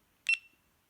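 A GoPro camera gives a short, bright electronic beep burst as recording starts, faint and alone in a quiet room, lasting well under half a second.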